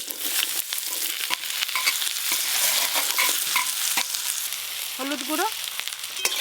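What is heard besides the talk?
potatoes, beans and eggplant frying together in a pan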